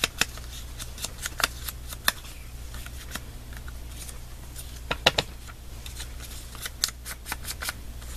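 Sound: scissors cutting paper

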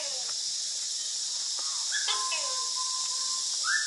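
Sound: exotic bird calls at Khao Kheow Open Zoo

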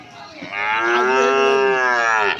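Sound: cattle mooing at a cattle market

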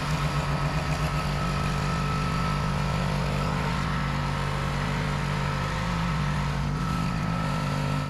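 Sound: Predator 212cc engine running on tiller

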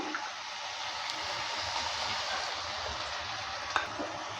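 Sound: stirring ridge gourd with poppy seed paste in a pan

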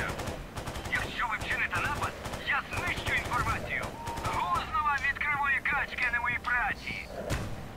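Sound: enemies shooting guns in video game Radiophobia 3

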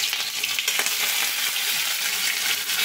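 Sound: tomatoes frying in hot oil

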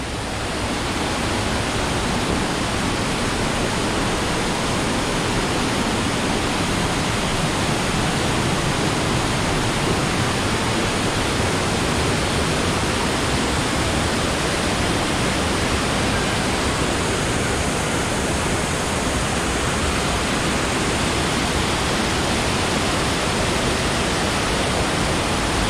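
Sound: waterfall in Sapadere Canyon

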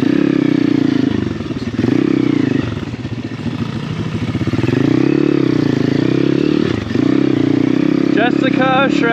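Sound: Honda XR dirt bike riding uphill

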